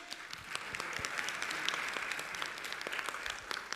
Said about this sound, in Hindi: तालियां तो बजाओ जोर से।